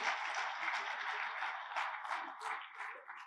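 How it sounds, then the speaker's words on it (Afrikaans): Church congregation clapping hands at a Pentecost service, a soft, steady patter of many hands over a few seconds with faint voices mixed in. "Kan ons wel 'n 3 lekker hande klap gee?"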